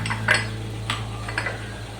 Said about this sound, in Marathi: ह्याच्यामध्ये आपल्याला हे बदाम टाकायचे, ते पण भाजून घ्यायचे छान.